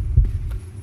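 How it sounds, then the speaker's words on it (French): A heavy, muffled heartbeat thump from the horror game Dungeon Nightmares, a single deep low throb standing alone with a faint hum behind it. "Vous entendez les bruits de battement de cœur là?"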